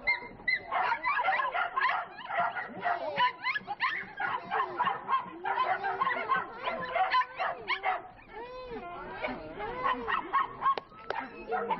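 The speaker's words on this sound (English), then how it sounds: "What kind of dog is that?" Dogs and cats rescued from Louisiana are being unloaded from a rescue flight, with dogs whimpering and yipping. The high-pitched cries come close and continuous for the whole stretch, overlapping one another, and people talk quietly underneath.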